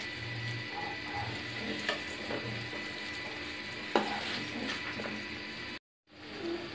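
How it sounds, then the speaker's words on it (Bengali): Chopped onion frying in hot oil in a pan gives a steady close sizzle, with a few light stirring scrapes and knocks, before cutting out briefly near the end. "এই তেলের মধ্যে আমি কিছু পেঁয়াজ কুচি দিয়ে দিলাম। পেঁয়াজ কুচিটাকে ভেজে নিচ্ছি।"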